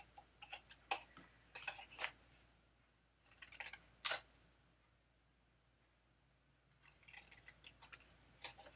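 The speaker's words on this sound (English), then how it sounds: "So we're just gonna cut that square." Scissors snip through a paper square in a papercraft project, giving several short, quiet crisp cuts separated by pauses in an otherwise still room.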